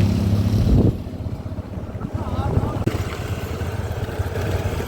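Two motorbikes ridden along a road, the engine drone running steadily beneath people talking, with wind rush and a few bumps along the way.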